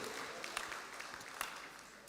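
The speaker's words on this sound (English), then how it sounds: "Let's appreciate that moment with a clap, please." Faint, distant applause from an audience at the SanlamAllianz launch dinner, a soft wash of scattered claps with a few sharper hits standing out.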